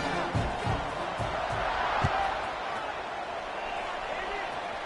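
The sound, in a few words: stadium crowd buzzing after a touchdown in a football video game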